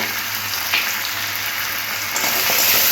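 Pumpkin and prawns with chilli, turmeric and coriander powder are stirred together in a hot pan, a continuous close sizzle with soft scraping strokes of the spoon.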